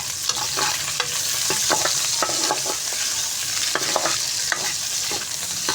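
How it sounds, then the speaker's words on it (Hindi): Onions and green chillies sizzle steadily in a pan, with a bright, continuous frying hiss and repeated scraping taps of a spoon stirring them close by. "अब प्याज को भी हमने हल्का सा फ्राई करना है 2 मिनट"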